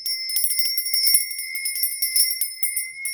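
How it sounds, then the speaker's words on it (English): A small bell is rung continuously, producing a bright sustained ringing with steady rapid strikes, loud and close, with no voices. "I'm going to be ringing this lovely bell"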